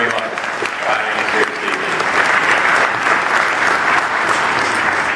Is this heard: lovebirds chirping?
no